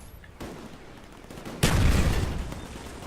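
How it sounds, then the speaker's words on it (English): Gunfire in the Call of Duty Black Ops video game: a faint shot early, then a loud sudden burst of rapid fire that keeps rattling and slowly fading, with no talk. "Someone's firing on me."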